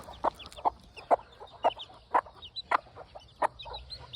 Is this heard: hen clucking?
yes